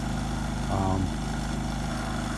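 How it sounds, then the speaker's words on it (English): A Predator 3500 inverter generator engine hums steadily at a low, even pitch from a short distance, with a brief muffled voice-like sound partway through. "I'm really impressed by how quiet this generator is"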